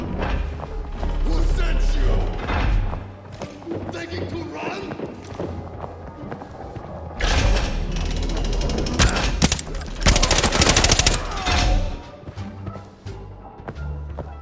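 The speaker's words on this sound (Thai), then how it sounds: "ข้างหน้ามีเสียงปืนเพียบเลยครับ" Gunfire in the shooter game Arena Breakout, with bursts of shots and mechanical weapon clatter at varying distances and a heavy, loud stretch near the end. A player talks over the sounds.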